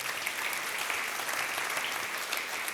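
A church congregation breaks into brisk, dense applause, a steady wash of many hands clapping together from start to finish with no voices rising above it.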